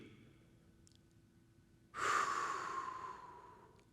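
A single long, close breath out during a held lizard lunge stretch, starting suddenly after a quiet lead-in and trailing off slowly, with no talking.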